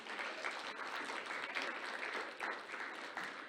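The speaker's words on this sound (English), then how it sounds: "Let's give them a round of applause." A crowd applauds a choir at a Metro 60th-anniversary gathering, steady sustained clapping from many hands filling the room without a break, loud and even throughout.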